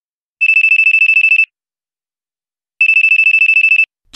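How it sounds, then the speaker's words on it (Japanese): A mobile phone rings in a PSP ghost-story game, two bursts of rapid trilling electronic ring separated by a short silence, loud and clear with no voices. "携帯電話が鳴った"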